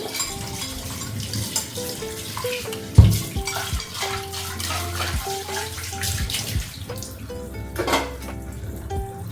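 Dishes, including an oily frying pan, being scrubbed and washed under a running tap, with water splashing, metal clanks and one sharp knock partway through, all close and busy.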